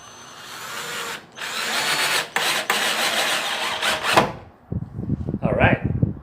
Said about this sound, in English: so it drives the screws